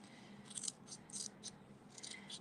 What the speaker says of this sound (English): I typically cut my Stampin' Dimensionals in half